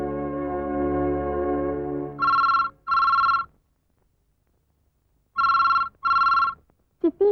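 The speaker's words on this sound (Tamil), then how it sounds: "போன் பெல் அடிக்குது." A telephone bell rings in two double bursts separated by a pause, loud and close, after music fades out at the start, in a 1998 Tamil film scene.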